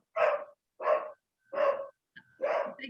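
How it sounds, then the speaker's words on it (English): A dog barks four times in a slow, even rhythm, then gives a short yip before a fifth bark; the barks are close and clear against a silent background. "I can do this once he's stopped barking"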